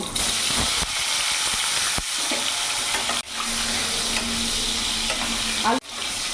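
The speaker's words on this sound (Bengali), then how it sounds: "এরই মধ্যে আমি আলুগুলো ভেজে নেব।" Potatoes fry in hot oil seasoned with salt and turmeric for a cauliflower potato curry, a loud continuous sizzle and hiss broken by a few brief stirring clatters.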